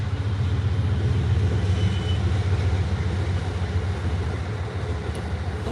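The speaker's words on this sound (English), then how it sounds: "Gonna let this train go by." A train passes nearby, producing a loud, steady low rumble that holds for the full stretch with no speech over it.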